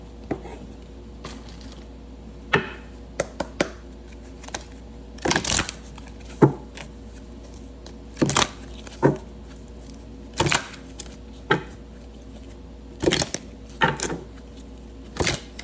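Romance angel oracle cards being shuffled and handled alone, with scattered crisp papery riffles and taps arriving in irregular bursts close by over a quiet background.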